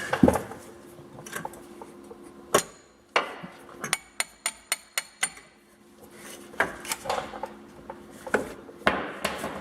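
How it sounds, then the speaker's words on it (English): Sharp metallic hammer blows driving a punch through a Jeep WJ front control arm bushing, a quick run of about eight evenly spaced hits followed by scattered clanks and scraping of tools. "stick a big punch in here and then go ahead and break out that center piece"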